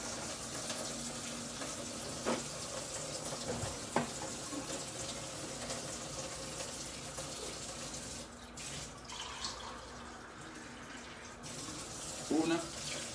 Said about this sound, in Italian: A questo punto io aggiungo un'altra tazza d'acqua